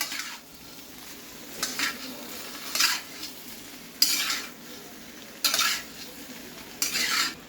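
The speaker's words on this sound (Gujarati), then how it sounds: "મીઠું નાખ્યા બાદ તમારે સારી રીતે મિક્સ કરી લેવાનું." Salted boiled potatoes are stirred in a pan for a Gujarati dry potato dish. A soft sizzle runs underneath while a spoon scrapes in short, regular bursts about once a second.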